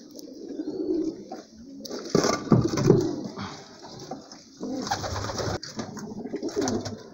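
Homing pigeons in a loft coo in deep, rolling bursts, close and fairly loud, with brief pauses between phrases.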